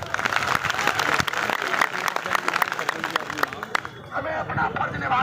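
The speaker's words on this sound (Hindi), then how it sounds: "एक बार उन सोई हुई आत्मा के लिए जोरदार ताली बजा" Audience at a public meeting clapping loudly with dense, uneven handclaps mixed with crowd murmur, fading briefly near the end before picking up again.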